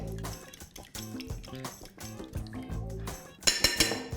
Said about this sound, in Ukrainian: Гарно розмішуємо рідину.